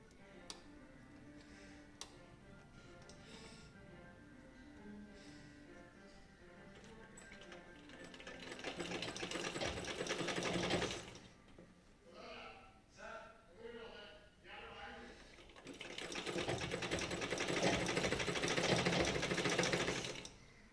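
An electric sewing machine stitches piping onto fabric, its fast mechanical whir rising in two long runs with a pause between, while a person talks quietly through the first part.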